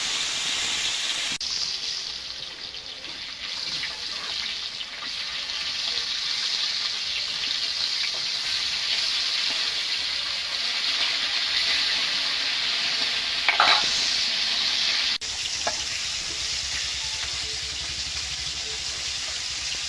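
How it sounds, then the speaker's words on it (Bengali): Small young rohu-type fish frying in oil in a pan give a steady, loud, close sizzle that runs for the whole stretch, with a few brief stirring scrapes and a short swell in the crackle near the end. "মাছগুলো ভেজে নেবো"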